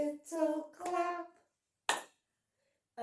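A single sharp clap sounds once, briefly and close, in a baby rhyme session, after a stretch of sung words from an adult voice.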